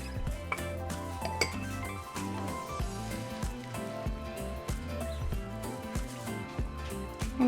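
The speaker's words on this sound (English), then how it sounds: "Just mix it." Butter is mixed into conchas dough in a bowl, producing faint, irregular clinks and scrapes of a utensil against the bowl over a soft continuous background.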